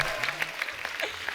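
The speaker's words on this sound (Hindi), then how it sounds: "दोनों के लिए जोरदार तालियां।" Studio audience applause on a comedy show, brief clapping with distinct claps over a low hum and some background voices.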